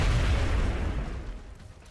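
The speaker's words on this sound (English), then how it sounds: "she can still throw a grenade, and with Resilius" A grenade blast in the XCOM: Enemy Within tactical video game, a deep booming explosion that rumbles loudly and then fades away over about two seconds.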